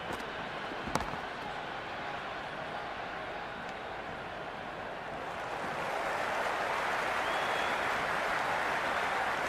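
A stadium crowd at a cricket match in the Cricket 26 video game keeps up a steady roar of cheering and applause, with one sharp knock near the start, and the noise swells louder for the second half.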